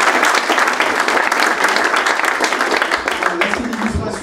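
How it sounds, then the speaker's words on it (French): Sustained audience applause at a French professional launch event for lawyers, a steady wash of many hands clapping that fades slightly toward the end, with a voice faintly underneath. "Je pense qu'on peut applaudir Michael."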